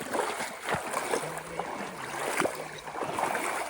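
Water splashes and churns around a boat at Sukhdar near Dapoli in Ratnagiri, a steady close wash of sloshing with a few sharper splashes, and voices faintly underneath.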